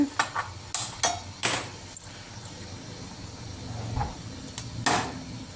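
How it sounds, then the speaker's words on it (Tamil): A metal tawa griddle set down on a stove, heard as a few sharp, close clanks and knocks spaced through the moment with quieter handling in between. "நம்ம தவா போட்டுட்டு"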